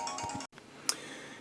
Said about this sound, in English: Oh, hang on, that's my phone.